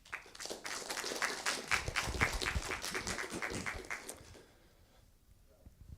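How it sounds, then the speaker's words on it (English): Applause from a conference audience at a programming languages session in Iceland, a dense patter of many hands clapping fairly close, steady for about four seconds and then dying away to quiet room tone. "perhaps we should just applaud so the authors can hear us and thank them for their presentation"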